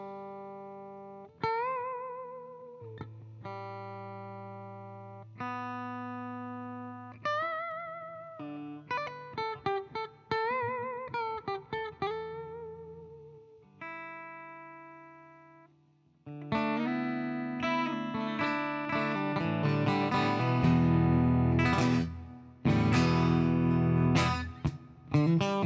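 A Harley Benton electric guitar played through the bridge pickup at full volume: a slow picked melody with single notes and chords, moving into louder, denser strummed passages, alone with no voices.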